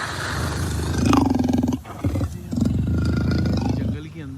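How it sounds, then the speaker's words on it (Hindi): Lion roaring somewhere in the jungle on a Kashmir trip, a long rumbling growl that swells and fades, mixed with people talking nearby. "तो ये कब से शेर की आवाज आ रही है, शेर के दहाड़ने की"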